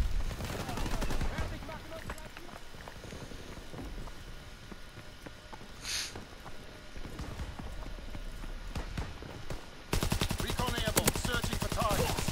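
Sten submachine gun bursts in Call of Duty WWII, rapid rattling volleys with a dense, loud stretch of fire near the end, mixed with game noise and someone talking.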